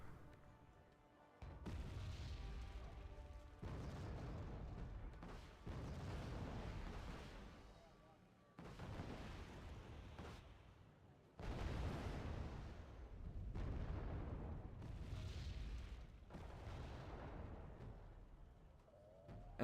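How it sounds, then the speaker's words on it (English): Rocket artillery and mortar barrages in the Wargame Red Dragon strategy game, heard as a string of heavy, rumbling booms that swell and fade in separate bursts over twenty seconds, with low background hum between them. "Plowman does fire, and of course with rocket artillery, it does miss."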